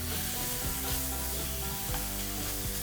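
Chicken soup ingredients seasoned with salt sizzle in a pan over a high flame, a steady loud frying hiss with occasional spoon scrapes and stirring knocks.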